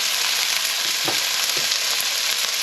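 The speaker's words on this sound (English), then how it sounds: "they are pretty thick steaks, so I'm going to keep flipping these" Thick steaks fry in a pan with a dense, steady sizzle, broken by a couple of brief louder bursts as the meat is turned over, close and constant with no voices.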